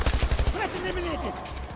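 Rapid automatic gunfire rings out in a Battlefield video game match, a short burst of closely spaced shots at the start, followed by a voice talking over quieter game sounds.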